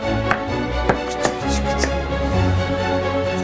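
Onions being sliced on a mandoline, a run of sharp rhythmic strokes about every half second, close and clear over kitchen background noise.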